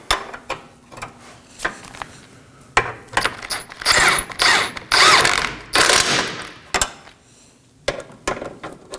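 A hand ratchet snugs up the front lower ball joint bolts on a 2013-2019 Nissan Sentra, sending out quick clicking runs and metallic knocks in uneven bursts separated by short pauses, close up with no talking.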